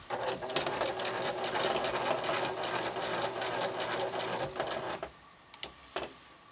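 A sewing machine stitches fabric in a steady rapid run for about five seconds, first forward then in reverse, before stopping and leaving a few faint clicks and handling sounds.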